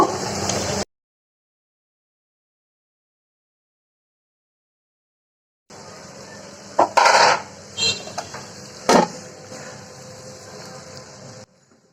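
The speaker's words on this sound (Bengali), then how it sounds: "আমি এখন পুঁই শাক আর আলুটা দিয়ে দিব।" Malabar spinach and potato pieces tipped into a pan of fried spices, giving a few loud clattering bangs and scrapes of the pan over steady sizzling after a brief pause.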